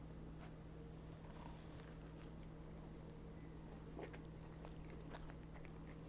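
Quiet bites and chewing on a slice of homemade pizza, a few soft crunchy crackles scattered over a steady low hum, with no talking.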